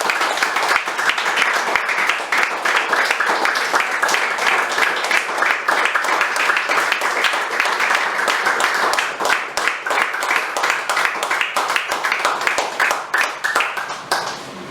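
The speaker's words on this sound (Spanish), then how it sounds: "Un aplauso fuerte al Señor" A large congregation claps loudly and steadily in a reverberant church, sustained applause filling the whole stretch without pause.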